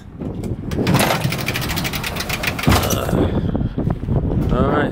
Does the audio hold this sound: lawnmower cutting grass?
yes